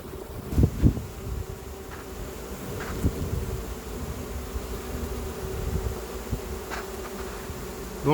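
A swarm of honeybees buzzing, a steady insect drone close to the microphone with a few louder thumps and handling bumps, no talking.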